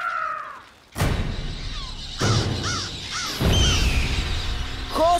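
Cartoon crows caw in short, sharp calls among sudden thumps and whooshes in an animated scene, with a loud burst as the birds are set loose.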